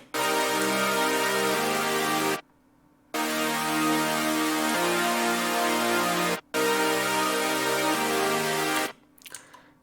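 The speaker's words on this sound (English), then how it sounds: "We have here I think 3 individual layers and 1 vocal ambience layer and some white noise." A future bass chord stack of layered synths with vocal ambience and white noise plays loud, sustained chords in three long blocks separated by short gaps, ending in a brief stuttered tail.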